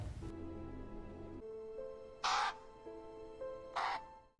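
Two harsh crow caws ring out a second or so apart over a sustained orchestral film score, loud and close, in a fantasy film scene set in a field where a crow has been caught by humans.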